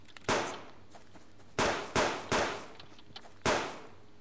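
Enemy player in the survival game Subsistence fires five sharp, echoing gunshots at irregular intervals, fairly loud and nearby, each shot trailing off in a brief reverberant decay, with no talk over them.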